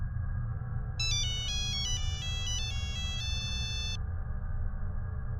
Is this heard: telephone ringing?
yes